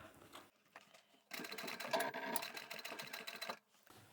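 A sewing machine stitches along the curved top edge of a fabric coin pouch with a clear pocket. It runs as a faint, steady mechanical whir for about two seconds after a few short, soft starts.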